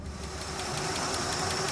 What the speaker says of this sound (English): Just sitting here idling.